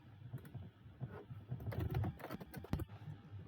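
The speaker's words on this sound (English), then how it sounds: "I'm so good at typing" Rapid typing on a computer keyboard while working on coding practice problems, a quick irregular run of close, light key clicks with no talking.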